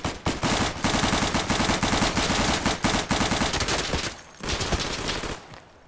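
Rapid automatic gunfire in the World War II shooter Day of Infamy, loud and close, sustained bursts with brief pauses before trailing off at the end, with no talking.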